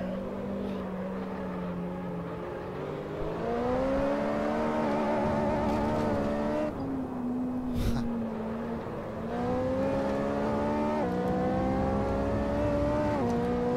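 Race car engine in Assetto Corsa career mode, a steady loud drone rising and falling in pitch through gear changes and corners, with one brief break in the middle.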